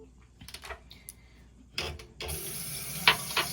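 A tap turns on and water runs steadily into a sink, close by, after a few soft clicks and handling noises.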